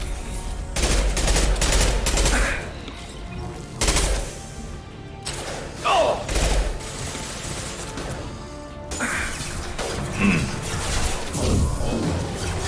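Submachine gun fire in the video game Mass Effect 2, loud rapid bursts in several clusters with short gaps, mixed with crashes and impacts of a firefight, without talk.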